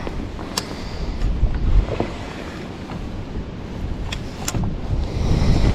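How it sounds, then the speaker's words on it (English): Wind gusts rumble across the microphone while fishing from a boat in fall. The roar is loud and steady and swells now and then, with faint water and boat noises beneath it. "I'm battling the wind too. The wind has been not my friend today."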